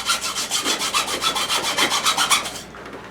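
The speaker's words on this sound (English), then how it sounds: "Take your hacksaw." A hacksaw cuts through deer bone during butchering, about fourteen quick, regular back-and-forth rasping strokes, close and loud, stopping just before the end.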